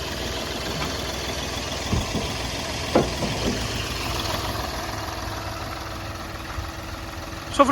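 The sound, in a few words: Hyundai Grand i10 CRDi diesel engine idling, bonnet open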